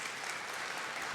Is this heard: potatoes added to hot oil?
no